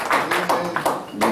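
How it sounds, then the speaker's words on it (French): Children get a round of applause at a church gathering, a short burst of several claps in an uneven rhythm, fairly loud and close, with a voice speaking over them. "Acclamation pour les enfants."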